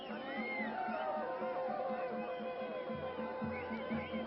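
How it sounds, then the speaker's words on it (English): Crowd at a chief minister's oath-taking ceremony in Himachal, distant broadband cheering and murmur from a large gathering outdoors, with faint music-like tones underneath. "A loud cheer going by"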